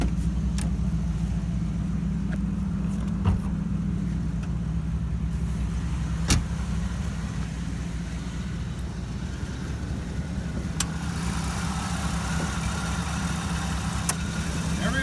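An old Oldsmobile car engine, running a little rich and needing carburetor adjustment, idles steadily with a low, rumbling drone, broken by a few faint clicks, running throughout without much change in pace.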